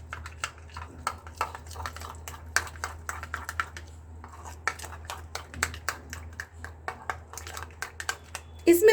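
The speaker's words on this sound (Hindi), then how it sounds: "अब हम इसमें अपनी ग्रीन चटनी ऐड कर देते हैं और इसे भी हम अच्छे से मिक्स कर देते हैं" Green chutney stirred into mayonnaise in a bowl, a steady run of light spoon clicks and scrapes against the bowl, close by, with a louder clatter at the end.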